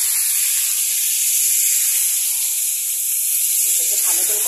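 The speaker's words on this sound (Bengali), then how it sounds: "মাংসটা ঢেলে দিলাম।" Marinated mutton, rubbed with salt, turmeric and mustard oil, hitting hot oil for a mutton curry gives a steady, loud broadband hiss that holds evenly throughout, with a few faint scrapes near the end.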